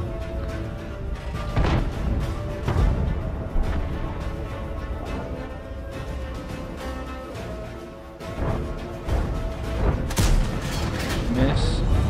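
Tank cannon shots boom through a World of Tanks battle with an IS-3A autoreloader and a T-34 nearby, several heavy blasts standing out against constant engine rumble and mechanical clatter while someone talks over the action.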